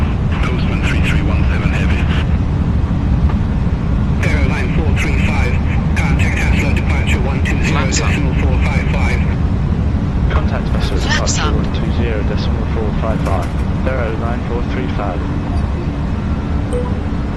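An airliner's engines roar steadily during a takeoff roll from Oslo's runway 01 left in a flight simulator, a constant loud rumble with radio-style voices talking over it.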